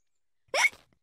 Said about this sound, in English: Oh dear, George's hiccups are spoiling the game.